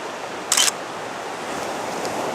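Camera shutter clicking once during long-exposure landscape photography by the sea, a crisp brief mechanical snap standing out above steady wave surf and wind.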